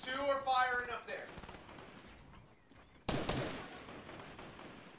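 Gunfire from a video game shooter breaks out in short bursts, with one sharp loud volley partway through, mixed with voices of players talking.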